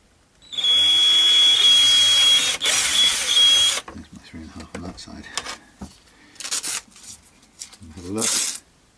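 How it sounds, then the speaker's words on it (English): A power drill cuts a countersink into a Fender Modern Player Telecaster body, a loud close grinding whir for about three seconds, then a few shorter scraping bursts and handling noises with speech in between. "I then want to just widen it out on top to give it a kind of counter sink."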